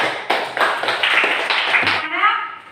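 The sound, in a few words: class clapping hands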